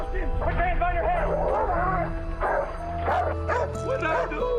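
A dog barks and yelps repeatedly, loud and close, in excited bursts over a steady low rumble, with other noise around it.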